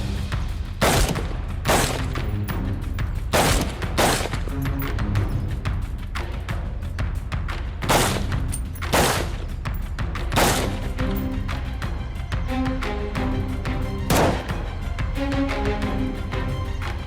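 Gunfire from a shootout in a Hindi TV drama: a long fusillade of sharp, loud shots in irregular bursts, with booming impacts over a continuous music or action bed.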